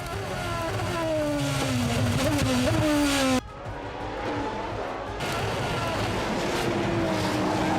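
Formula 1 race cars roaring past at high speed, a loud continuous engine whine with falling pitch sweeps, cutting out abruptly and returning as another car passes.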